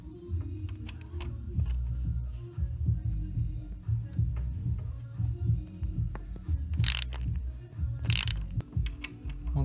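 Ratchet working on a BMW to loosen a screw, giving soft mechanical clicks and low rumbling handling noises up close, with two brief sharp metallic clacks near the end.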